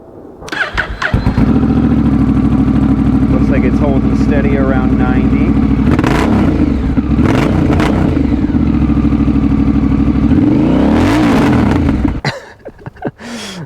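A Honda Rebel 1100 with an aftermarket TBR exhaust fires up and idles loudly close by, with a couple of sharp revs rising and falling; someone speaks briefly near the end.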